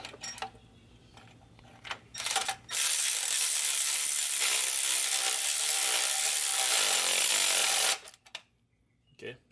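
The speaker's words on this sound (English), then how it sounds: "So we're gonna use our electric ratchet to tighten this bolt." An electric ratchet tightens a transmission bolt on a Ford E350, with a loud, steady high-pitched whir running for about five seconds between short metallic clinks and handling noises.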